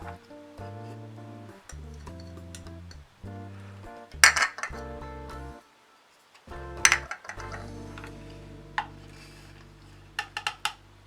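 Two kinds of olives are tipped into the bowl of a mini food processor, giving close, scattered clinks and light clatters in short bursts separated by brief pauses.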